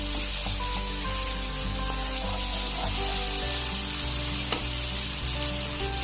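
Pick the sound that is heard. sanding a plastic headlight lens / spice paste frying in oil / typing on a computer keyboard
spice paste frying in oil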